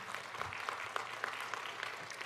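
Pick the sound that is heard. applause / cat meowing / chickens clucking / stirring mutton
applause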